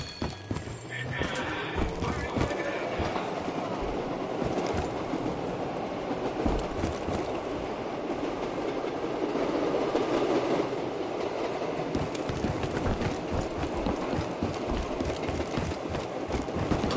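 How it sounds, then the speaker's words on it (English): A ride on a train in a PS4 video game gives a steady rolling rumble throughout, with horse hooves clip-clopping and a whinny early on, under game character dialogue. "I ride this train every damn day."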